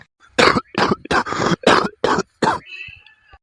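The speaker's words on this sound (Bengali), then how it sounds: "বাবার কাশিটা আবার বাড়ছে দিন দিন।" A man's persistent, worsening cough: a run of seven harsh, loud coughs in quick succession, close to the listener, followed by a faint wheezy breath and quiet rustling.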